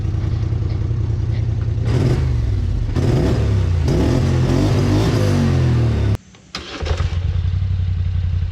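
A modified car engine idles loud and close with a steady low rumble, a few throttle blips swelling in between, then a brief dip near the end before the idle settles back in.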